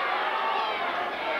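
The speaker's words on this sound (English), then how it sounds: "Listen to the crowd" A boxing arena crowd roars in a continuous, loud wash of cheering at a professional bout, with a commentator's voice talking over it.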